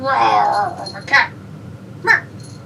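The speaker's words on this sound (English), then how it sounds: "Cat." A house cat meows once, a fairly loud wavering call near the start, followed by a couple of brief higher sounds, with faint background noise and no clear talk over it.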